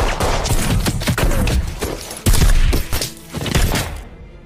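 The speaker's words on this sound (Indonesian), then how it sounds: "Dan baku tembak pun dimulai." Dense, loud gunfire and impacts from a film shootout against terrorists, with overlapping shots, thuds and crashes in a continuous barrage before cutting off abruptly.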